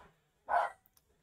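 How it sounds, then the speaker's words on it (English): Dogs barking during an outdoor talk about food and fibre production, a single short burst of barking at middle distance, followed by a couple of faint ticks, with no speech over it. "please ignore the barking dogs."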